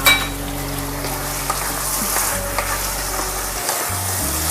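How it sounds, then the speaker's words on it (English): Chili tipped into a frying pan of homemade pasta sauce and stirred, a steady close sizzle with scraping and light clinks of a utensil against the pan. "And now finally I'm going to add chili."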